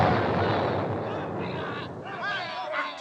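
Gunfire booms from a vintage Disney Swiss Family Robinson storybook record, a loud, dense blast at the start that rumbles and decays, with speech and other sounds emerging toward the end.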